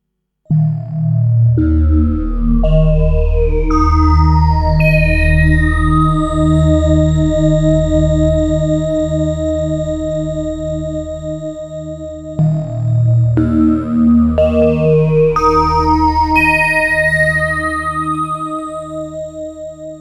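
Sustained tones from PPG Wave and Groove Synthesis 3rd Wave synthesizers with bright, glassy harmonics, changing pitch every couple of seconds, loud and close with no voices.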